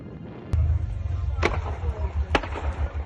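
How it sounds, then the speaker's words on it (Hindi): A gas pipeline explodes in Kharkiv after Russian strikes, several sharp, loud bangs ringing out at irregular intervals over a steady low rumble, with crackling between the blasts. "खार्किव में रूस के हमलों के बाद गैस पाइपलाइन में जोरदार धमाका हुआ"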